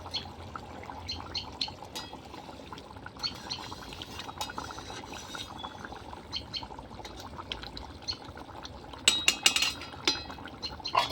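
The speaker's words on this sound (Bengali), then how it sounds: "দেখেন মাছটা কত সুন্দর ফুটছে দেখেন" A pot of hilsa fish curry simmers over a clay stove with continuous soft bubbling and popping, a few sharper clinks and sputters toward the end, no voices.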